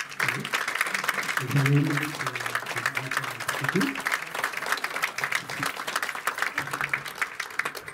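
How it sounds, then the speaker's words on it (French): Sustained audience applause at a French documentary screening, filling the whole span at steady loudness, with scattered voices and cheers mixed underneath. "je vais vous demander de faire un tonnerre d'applaudissements pour Keltouma"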